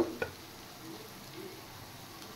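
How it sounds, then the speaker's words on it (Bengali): Chopped garlic and ginger fry in a pan with a faint, steady soft sizzle, opened by a couple of quick clinks of stirring. "এবার রসুন সহ আমি আর একটু ফ্রাই করে নেব।"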